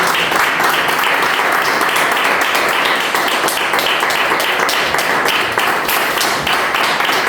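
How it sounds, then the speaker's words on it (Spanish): Congregation in a Spanish-language church service clapping together, a lively, fairly rhythmic wash of hands with sharp individual claps standing out, steady for several seconds. "Le damos un aplauso a Dios."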